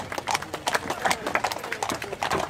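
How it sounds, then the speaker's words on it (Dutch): A pair of Haflinger horses pulls a French summer brake carriage at a Dutch carriage show day, hooves clip-clopping in a steady trotting rhythm while a commentator talks over them. "Dan ziet u de familie Maathuis met een Franse zomerbrik."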